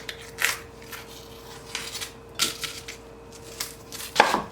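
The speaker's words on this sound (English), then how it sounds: "start chopping up some onions and garlic" A knife chopping onions and garlic on a cutting board while making split pea soup: a few sharp, close cuts spaced a second or two apart, with quiet kitchen room tone between them.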